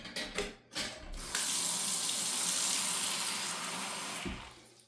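A bathroom sink faucet runs steadily into a basin held closed by a newly repaired stopper with a replaced pivot rod, a loud close hiss of pouring water after a few brief splashes and handling knocks.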